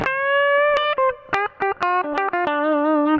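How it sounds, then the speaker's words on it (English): Electric guitar notes played one after another in a clean tone through a Guitar Fetish Lil Killer or DiMarzio Heavy Blues 2 bridge pickup, each note ringing clearly with short gaps between them and no voices. "This is a clean sound."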